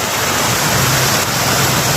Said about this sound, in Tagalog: Mataas pa rin po dito ang tubig. Binabaha pa rin po dito.